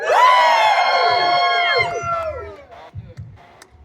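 A street show audience at Jackson Square cheers and whoops loudly for about two seconds, then the roar fades into scattered murmurs and a few soft thumps.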